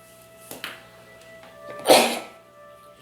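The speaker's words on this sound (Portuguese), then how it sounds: "Desculpa, espirrei aqui." One sudden, loud sneeze from a person, with a sharp breathy burst partway through and quiet room tone around it.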